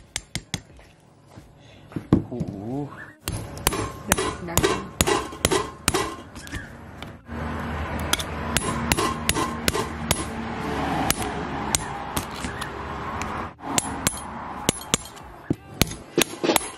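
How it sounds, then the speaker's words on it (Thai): Sharp, loud hammer blows crack the hard shell of a spiny lobster, coming as irregular bursts of close knocks, with a stretch of scraping and rustling handling between them. "ต้องบอกก่อนนะครับว่าเปลือกกุ้งมังกรเนี่ยแข็งมากต้องใช้ค้อนทุบเลยทีเดียว"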